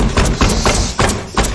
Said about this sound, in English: Stop the fucking hammer!